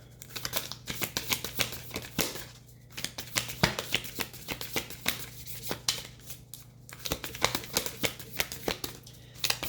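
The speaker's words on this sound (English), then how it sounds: "All right, Holy Spirit, let me get one or two more cards." Tarot cards are shuffled by hand in quick bursts of riffling snaps and flutters, close and fairly quiet, with short pauses between rounds and no talking.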